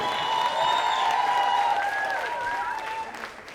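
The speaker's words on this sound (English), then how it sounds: "Round of applause for Mr. Xavier Murphy." An awards ceremony audience applauds and cheers for honoree Xavier Murphy, a continuous wash of clapping with whoops and raised voices above it, fading slightly at the end.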